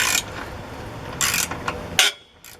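Small bolts are loosened with a socket on a long extension while lifting an Aliner A-frame pop-up camper; short rasping ratchet bursts come close and loud, separated by brief pauses, with a final click before near silence.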